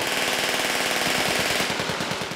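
Rapid bursts of machine gun fire rattle continuously at a large outdoor machine gun shoot, loud and close, with rounds chattering in fast, even rhythm.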